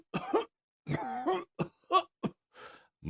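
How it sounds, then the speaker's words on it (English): Several harsh, hacking coughs in uneven bursts, close and fairly loud, with short pauses between fits. "How long have you had that cough?"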